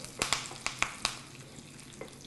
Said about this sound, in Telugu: పోపు చిటపట్లాడుతుందండి.